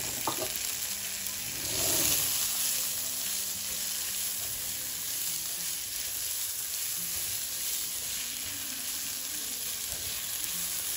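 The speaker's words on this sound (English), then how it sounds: "Now I'm going to add in my rice. We're going to mix our rice." Rice for Mexican red rice fries in a pan on a stove, giving a steady close sizzle with occasional stirring scrapes and no talking.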